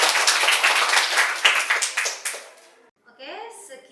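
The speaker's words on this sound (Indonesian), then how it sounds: "Kita sama-sama beri aplaus." A small audience at a classroom-style meeting claps together in a short burst of irregular, close applause that thins out and stops, followed by a voice speaking.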